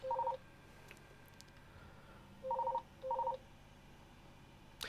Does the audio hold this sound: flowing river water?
no